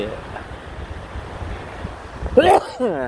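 Cool wind blows across Wonnapha beach with waves washing ashore, a rushing, gusty roar against the microphone; a voice briefly sounds near the end.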